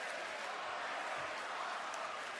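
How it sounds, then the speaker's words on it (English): Wrestling arena crowd at a WWE Raw show roaring and cheering continuously, a broad steady wash of voices and applause heard from a distance, quiet and even throughout without clear individual shouts. "Just listen to the crowd."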